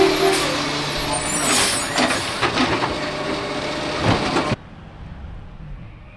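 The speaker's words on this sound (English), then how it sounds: "We have garbage trucks coming through" A garbage truck rolls past with loud hisses and rumbling, its air brakes bursting several times before the sound cuts off abruptly to a quiet background.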